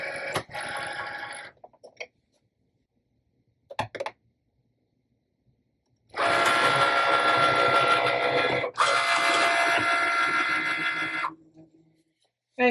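Cricut cutting machine working through a basswood sheet for wooden letters, with short mechanical bursts early on and then a loud, steady whirring grind for about five seconds, briefly interrupted, then stopping.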